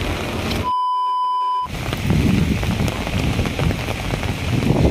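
Heavy monsoon rain and wind batter Manila Bay in a loud, continuous hiss and rumble, broken near the start by a roughly one-second electronic beep.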